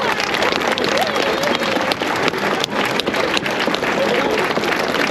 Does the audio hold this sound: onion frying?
no